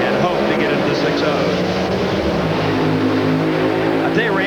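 Drag racing cars with 2,500-horsepower engines roar loudly at high revs, a dense, sustained engine howl with rising tones, accompanied by talk.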